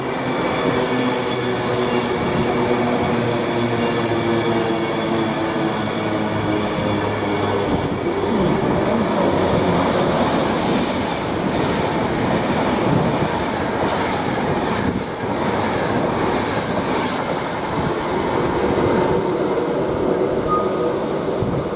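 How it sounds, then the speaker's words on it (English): Class 390 electric train, unit 390-141, running from Manchester Piccadilly to London Euston on the West Coast Main Line at Nuneaton, passes with a loud, steady rolling rumble and rail hiss lasting throughout. "here is 390-141 heading from Manchester Piccadilly to London Euston"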